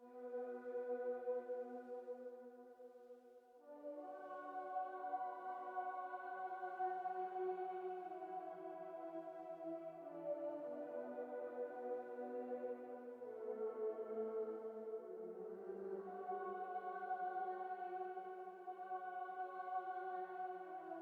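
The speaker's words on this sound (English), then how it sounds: "Lastly, we're using the Nautilus preset by the Augmented Voices by Arturia," Arturia Augmented Voices Nautilus preset: a soft, airy synthetic choir pad that holds sustained chords, shifting slowly through them, steady and fairly quiet throughout with no voices.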